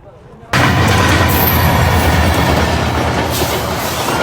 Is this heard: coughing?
no